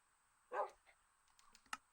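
Dogs in a survival-island video game, one short, loud bark followed by a fainter second yelp near the end, with soft keyboard clicks tapping in between.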